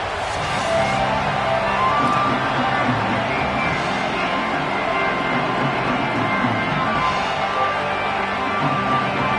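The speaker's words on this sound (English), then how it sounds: "This crowd ready to make its presence known." Crowd noise filling a college football stadium, Texas Longhorns against Oregon Ducks, as a steady loud roar and din that holds without break from start to finish.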